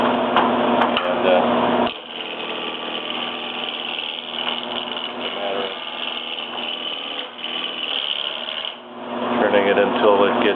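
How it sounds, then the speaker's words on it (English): A roughing gouge turns a wooden block for an 18th-century turret top tea table turret on a lathe, giving a loud, continuous rasping scrape that carries on steadily with brief dips, close up and without speech. "I've got the roughing gouge here,"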